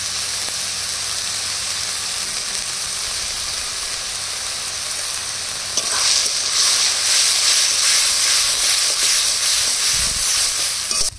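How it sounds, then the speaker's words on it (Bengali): Ginger garlic paste with salt and turmeric frying in oil, a continuous close hiss that swells louder and busier partway through as the spices sizzle, no talking. "মশলা কষানো হয়ে গেছে, উপর দিয়ে তেল ছেড়ে দিয়েছি"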